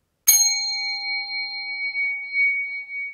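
A zen meditation bell is struck once, giving a single bright, clear ding that rings on as a long, sustained shimmering tone in silence.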